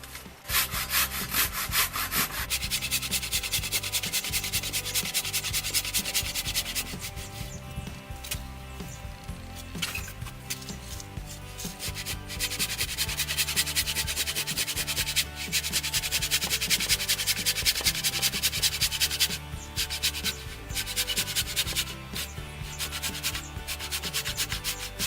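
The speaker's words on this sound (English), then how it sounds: "Forgot how long it takes to saw through a 7x8." A hand saw cuts through a 7x8 timber frame scrap with long, steady rasping strokes back and forth, close and loud, continuing throughout with a few brief pauses.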